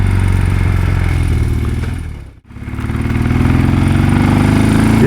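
A 1979 BMW R100S motorcycle engine revs hard past 5,000 RPM, a loud steady droning roar that dips sharply for a moment and then builds back up, heard up close.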